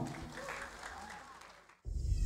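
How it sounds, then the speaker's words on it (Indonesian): Audience applause at a live launch event for a record label and music video premiere, moderate clapping heard from a distance that is cut off abruptly, followed by a louder burst of sound. "Tepuk tangan dulu dong."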